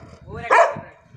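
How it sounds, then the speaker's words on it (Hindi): Large dogs barking, a single loud, close bark rising over a low rumble of background noise and voices. "क्या तगड़े कुत्ते पाले, बचा यार।"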